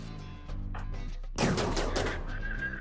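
Gunfire crackles in a RimWorld colony battle, a burst of rapid shots erupting partway through over a low background hum, fairly faint and distant.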